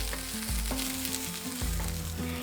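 Soybean chunks fry in a pan on medium flame, a steady loud sizzle with stirring scrapes and soft knocks against the pan.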